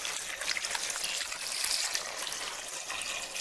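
Water pours into a cooking pot holding sugar, cinnamon, cardamom and cloves for homemade grape juice, a steady bright trickling splash, close and continuous with no talking.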